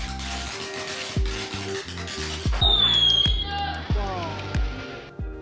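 Fireworks pop and bang in a rapid series of sharp explosions on Chinese New Year's Eve in a Dai village in Yunnan, with whistling crackle and a busy crowd murmuring beneath.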